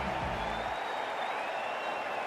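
Crowd in the cricket video game Cricket 24, at a New Zealand versus Australia match, applauding and cheering as a steady loud wash throughout, with a low rumble fading early on.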